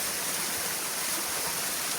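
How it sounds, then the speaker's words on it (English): A nearby waterfall rushes with a loud, dense, unbroken roar of falling water on a hiking trail, filling the whole moment without any voices. "I apologize for the noise right next to a waterfall"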